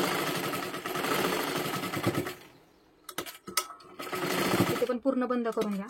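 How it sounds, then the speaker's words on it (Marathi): A sewing machine stitches fabric in fast whirring bursts, pausing briefly, with someone talking over and between the runs. "आता इथे आपल्याला एक शिलाई मारून घ्यायची"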